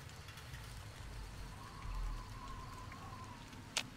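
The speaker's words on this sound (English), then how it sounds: "Let's hope it stops raining too" Steady soft rain hiss in the video game Fallout: New Vegas, with a low rumbling bed beneath, fairly faint and continuous, ending with a brief sharp tap near the end.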